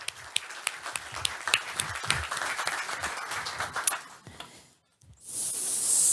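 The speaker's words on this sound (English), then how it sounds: "Give her a warm applause." Applause from a business audience welcoming a presenter, many hands clapping fairly close for about four seconds, then tapering off into a brief quiet before a steady hiss rises at the end.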